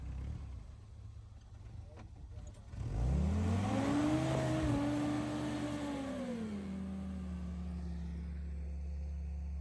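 A classic Jeep engine on an off-road trail surges from idle into a strong, rising rev as it climbs a rocky obstacle, then settles into a steady loud drone, heard fairly close.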